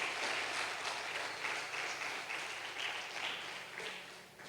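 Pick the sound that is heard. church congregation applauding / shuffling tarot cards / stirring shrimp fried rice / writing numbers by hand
church congregation applauding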